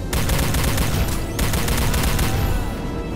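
Rapid, dense weapon fire from Star Trek: Elite Force II on PC, a loud continuous automatic volley that breaks off briefly near the middle and then resumes, with no talking over it.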